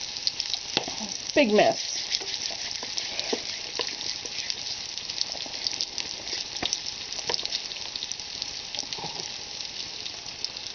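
A quick pan pizza sizzles steadily in a very hot pan, with a constant hiss and occasional sharp spits and crackles; a voice briefly speaks over the frying.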